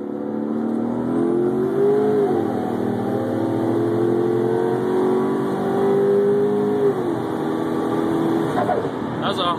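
Twin-turbo 392 Dodge Charger making about 750 wheel horsepower pulls hard on a highway, a loud sustained engine drone with rising pitch and a gear change, heard from inside the car.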